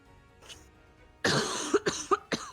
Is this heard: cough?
yes